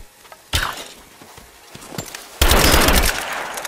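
Machine-gun bursts in Rise of the Tomb Raider: a rattling volley starts, scattered shots follow, then a loud continuous burst of automatic fire takes over near the end.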